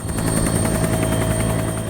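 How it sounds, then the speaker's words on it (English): A helicopter crossing the northwest coast of Greenland toward Petermann Glacier beats out a continuous rotor chop with a steady engine whine, loud and close, with no voices. "To get there in a helicopter took us 4 hours"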